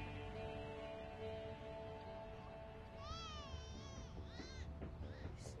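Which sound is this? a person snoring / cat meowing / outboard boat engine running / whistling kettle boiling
cat meowing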